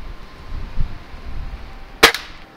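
A single sharp crack from a Gamo CFX .22 underlever spring air rifle, near and brief, with faint low rustle and handling noise before it.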